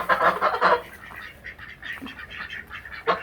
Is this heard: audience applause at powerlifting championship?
no